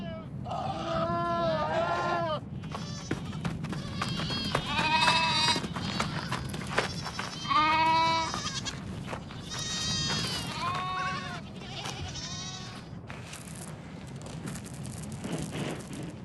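Goats bleat repeatedly in loud, wavering calls that come in clusters, several animals overlapping nearby, against a low constant background rumble during shearing of a large herd.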